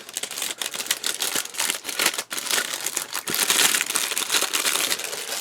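Resealable plastic bag crinkling continuously as parts from a Takom 1/35 StuH42 and StuG.III Ausf.G plastic model kit are handled and packed, close and fairly loud with dense rustling bursts, no talk.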